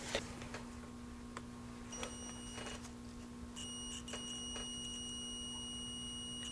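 Continuity beeps from a multimeter testing a spark plug wire set, steady high-pitched tones that start and stop in short and longer runs over a faint background hum, no talking.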